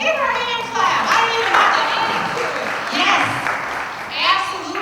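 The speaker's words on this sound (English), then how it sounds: "Yeah, give her a hand clap." Audience applause fills a room at a Walton Chamber of Commerce meeting, a steady wash of many hands clapping that swells and eases over several seconds, with voices mixed in.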